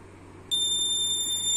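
An Arduino air pollution monitor with an MQ135 gas sensor sets off its alarm buzzer, which starts abruptly and holds a loud, steady, piercing electronic tone over a faint background hum.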